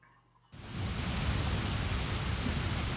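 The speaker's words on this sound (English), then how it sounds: "I wonder if this rain will ever let up." Rain in a video game starts abruptly after a half-second lull and becomes a steady, dense, even hiss that holds at constant loudness with no voices.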